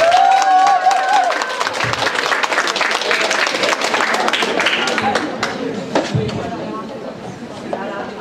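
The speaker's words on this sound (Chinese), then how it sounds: "我们掌声欢迎" An audience applauds to welcome a singer at a karaoke singing contest, a loud sustained burst of clapping that starts just after a brief voice and slowly thins out.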